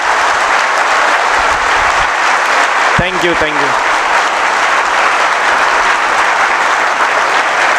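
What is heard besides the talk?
audience applause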